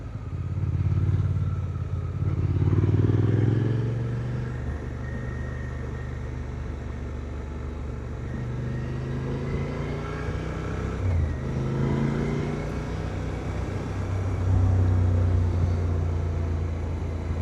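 Suzuki V-Strom motorcycle riding along a twisty gravel road, its engine droning steadily with rising and falling revs through the bends, heard close from the rider's position under constant wind rumble.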